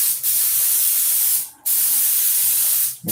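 Spray gun shooting clear top coat in a painting setting: steady loud hissing bursts, three long passes separated by brief pauses, with no talking.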